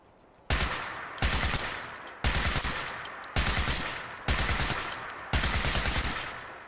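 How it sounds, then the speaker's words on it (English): Repeated bursts of automatic gunfire in Fallout 4, six loud rapid volleys separated by brief pauses, close and dominant with no talk. "Move away so I can shoot."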